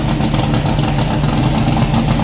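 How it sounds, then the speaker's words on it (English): A vicious-sounding Corvette race car with side pipes, wearing a big Canadian flag, running at a historic road-racing meet; a loud, steady, rumbling engine note holds close and continuous throughout without a break. "Here is something starting up, and a pretty vicious sounding Corvette with a big Canadian"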